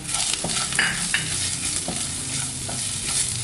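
Chicken with garam masala and coriander powder is stirred in a hot pan, with a continuous sizzle under intermittent scraping spoon strokes, close and steady.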